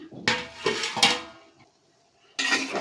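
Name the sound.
stirring bottle gourd in spice mixture in a pot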